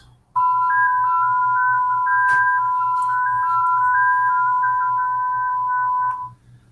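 FSQ digital radio mode at 6 baud sends a run of steady, musical tones that step between pitches for about six seconds over a faint low hum, then stop.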